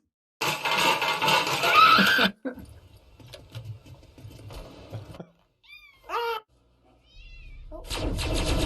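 A cat meows in a short comedic meme clip, its brief wavering cries rising out of a loud, noisy passage with scattered thumps and clatter, followed by a sudden burst of harsh noise at the end.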